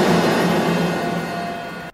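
A drum kit plays in an abandoned garage with high, hard concrete ceilings, producing a dense, loud wash of long ringing reverb that sustains and slowly fades before cutting off.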